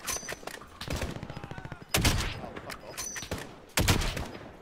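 Gunfire in the online shooter Warzone: rapid bursts of automatic fire in several loud volleys, with sharp single shots between them, close and dominant, with no talk over it.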